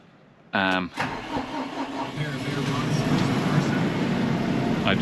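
A tractor engine cranks briefly, catches with a sluggish start, then settles into a steady, rising idle, close and clear.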